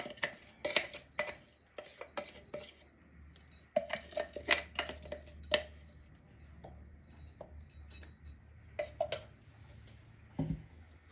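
Thick green seasoning paste is scraped from a blender onto a plate, giving scattered clinks and taps of a utensil against glass and ceramic, quiet and close, with pauses between knocks.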